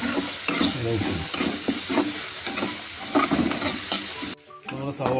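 Sliced onions frying and being stirred in a pan for North Indian dal tadka, with a close, loud sizzle and scraping stirs throughout and a brief drop in the sizzle near the end.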